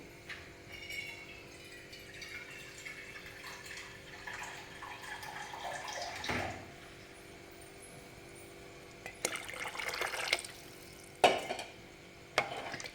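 Water pours and sloshes into a pot of katachi amti (dal broth) in short bursts, with stirring and scraping sounds close by at a low level.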